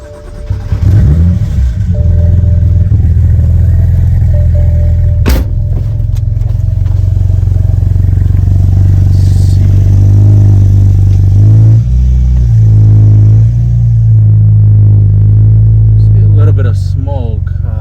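A BMW Z4 engine running on E85 runs loud and close, rising and falling as it revs while driving, with a brief clatter partway through.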